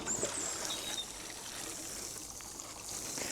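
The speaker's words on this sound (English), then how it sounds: "And now we just water them in." Soft steady trickle of water from a watering can falling onto a freshly sown mixed salad bed, a continuous hissing patter outdoors, close and moderately quiet, with no talk.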